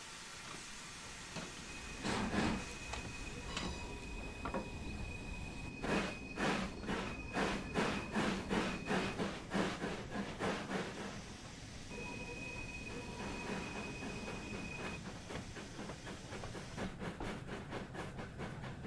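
A Fowler 4F steam locomotive works along a railway in a train simulator game, with rhythmic chuffing exhaust beats that quicken, a steady hiss and a sustained tone running through, moderately distant.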